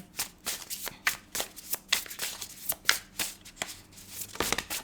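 Tarot cards are shuffled by hand in a quick, uneven run of crisp riffling flutters and soft slaps, close up and alone.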